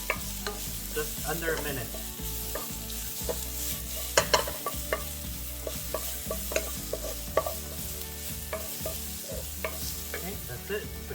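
Green onions stir-fried in a pan for vegan japchae with a pinch of salt, giving a steady sizzle broken by frequent scraping and clattering stirs, close and fairly loud, with no talking.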